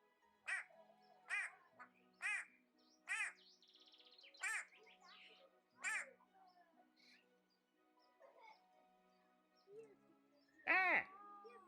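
White-bellied go-away-birds give a run of loud, harsh nasal calls, about six evenly spaced in the first half, then a few quieter notes and one final strong call near the end. They sound close and clear over a quiet background.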